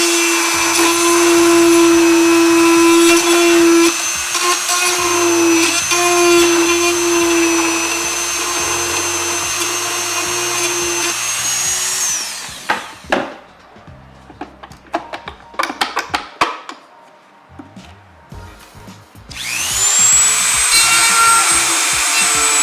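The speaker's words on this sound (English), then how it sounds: "or in this case, I'm going to Dremel it." A Dremel rotary tool cuts through a plastic weld on a car tail light, a loud sustained high-pitched whine for several seconds, then handling clatter, then another whining burst.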